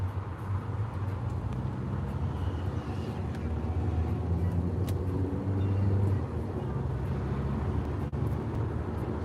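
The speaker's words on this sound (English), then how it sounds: "We're just driving home." A car drives along a road, heard from inside as a steady low engine and road rumble that continues without break, with no clear talking.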